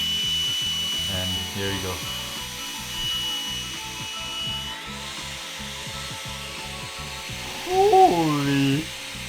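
A suction fan on an upside-down anti-gravity RC car runs with a steady, thin whine and hum. Someone talks over it.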